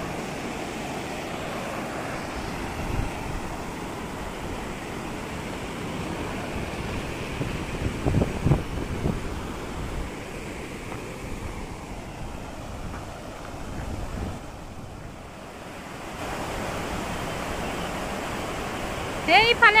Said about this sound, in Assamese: পানির শব্দ।